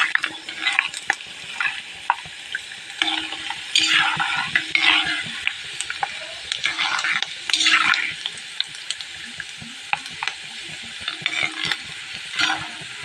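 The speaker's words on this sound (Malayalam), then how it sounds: "കറ്റാർവാഴ ആദ്യം ഇടുന്നത്, ആദ്യം അതിന് ഈ കൊഴുപ്പുള്ളത് കാരണം ഒന്ന് മൂത്ത് കിട്ടാൻ കുറച്ച് പ്രയാസമല്ലേ" Aloe vera fries in coconut oil in a pan while making hair oil, with a continuous sizzle and repeated scraping stirs of a utensil against the pan, close and moderately loud, with no talking.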